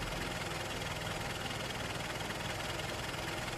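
Idling car engine in a rainy city street at night, a low, steady rumble that holds at a constant level with no gaps or changes in pitch.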